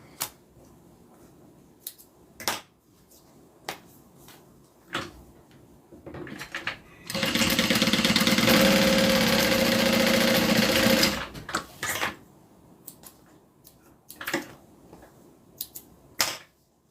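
Sewing machine stitching down a bag seam, a steady loud whir lasting about four seconds, framed by scattered clicks and handling knocks of fabric and parts before and after, no talking.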